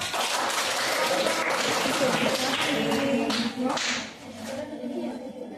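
Classroom applause after a group presentation in an Indonesian language lesson, dense clapping from students that stays steady and close for several seconds before thinning out near the end, with some voices mixed in.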